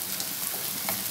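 Garlic sizzles and fries in a pan while cooking cauliflower beef, a soft, steady crackle with faint pops, fairly quiet and without voices.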